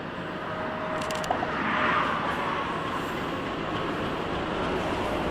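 A distant freight train rumbles past near Tifft Yard in Buffalo as a steady broadband roar, swelling slightly midway, with a brief faint horn-like tone early on.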